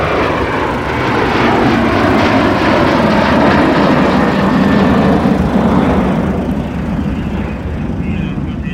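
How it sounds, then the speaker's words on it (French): A Sunwing airliner taking off from an airport tarmac, its loud engine roar building and sustained throughout, heard up close with a faint voice beneath. "Ça, c'est le Sunwing qui décolle."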